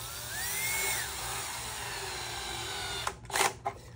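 An electric drill on its lowest setting whines steadily up close while fitting a front lip to a Toyota Corolla E210, its pitch rising and easing, then a few short clattering knocks near the end.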